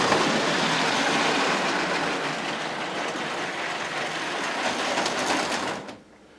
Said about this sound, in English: Let the train get around one more lap.